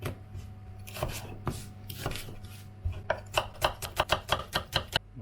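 A knife chops an onion on a board, with scattered cuts at first that settle into a quick, even run of close, crisp strokes.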